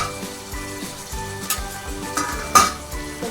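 Boiled cluster beans frying in a little oil in a pan, a constant crackling sizzle broken by repeated scrapes and clinks of a spatula against the metal, loud and close with no talking.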